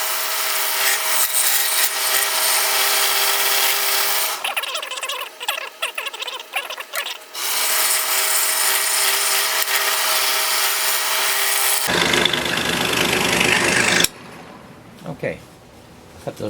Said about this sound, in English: So I'm doing this on the scroll saw because I can make a turn easily here.